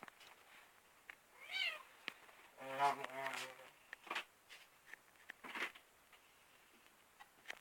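A cat meows a couple of times, close and moderately clear, with quiet rustling and small knocks around it and some faint talk in the background.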